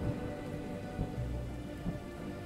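Heavy spring rain falls steadily with a dense, continuous hiss, and low rumbles of thunder roll in at intervals underneath it.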